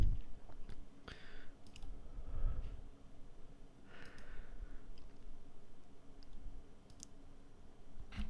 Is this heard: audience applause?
no